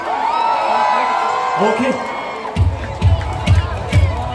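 A cheering squad crowd shouts and whoops together, then rhythmic group chanting or clapping bursts repeat steadily; a voice speaks briefly over the noise.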